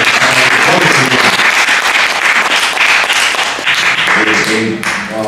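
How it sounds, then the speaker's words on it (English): Applause from a comedy club crowd at a live stand-up show, dense and loud clapping sustained throughout with some voices mixed in. "I'd like to applaud the people who put this together."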